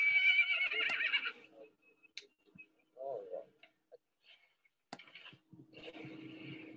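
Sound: horse neighing near a mare

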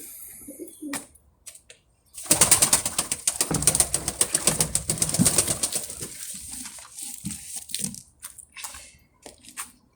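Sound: birds cooing in a box

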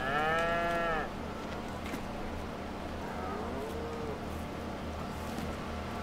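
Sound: cows mooing in Farming Simulator 22 video game

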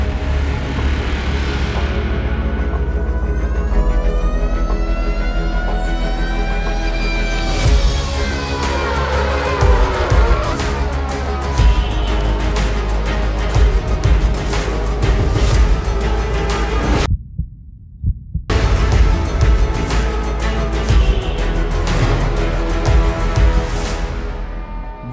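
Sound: Cupra Urban Rebel Racer electric race car driving a hot lap

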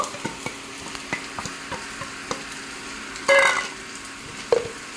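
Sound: frying chopped onion with turmeric, cumin, coriander powder

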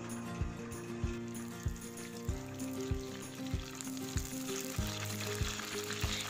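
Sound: curry leaves sizzling in hot coconut oil

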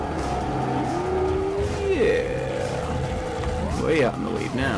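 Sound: vehicle engine in the video game Jak and Daxter

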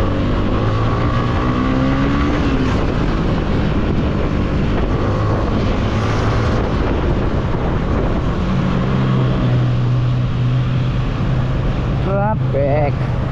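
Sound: road traffic at night, Nasugbu to Sta Cruz

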